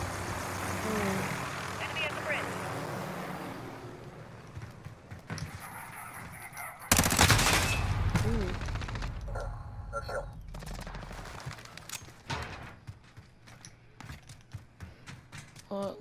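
A video game gun fires in rapid, loud bursts, with sharp cracks and noisy blasts coming in uneven clusters alongside a person talking.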